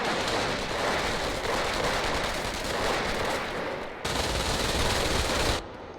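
Sustained MG42 machine gun fire in Company of Heroes, a dense continuous roar of rapid shots with a brief dip around the middle, loud and close with no speech.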